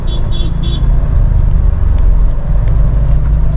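A car engine hums and rumbles steadily up close as the car pulls away in first gear on half clutch in heavy traffic, a low constant drone with a slight rise in effort.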